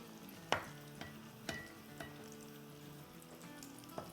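Stuffed chilli pakoras fry in oil, with a low steady sizzle and a few sharp clinks and stirring knocks from a utensil at regular intervals, close and fairly quiet.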